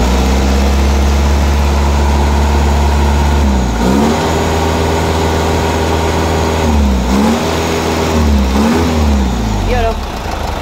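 A tuned Isuzu 4JJ2 four-cylinder diesel runs steadily at idle with a few brief blips of the throttle, loud and close, as someone talks over it.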